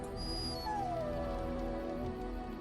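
A dog in the Dragon Age: Origins video game gives a short, high whimpering whine that slides downward, close and clear over a soft game background.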